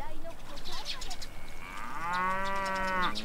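Cattle mooing in the video game Shin chan: Meine Sommerferien mit dem Professor, with a long, clear, drawn-out low moo rising out of faint background sound near the end, close and fairly loud.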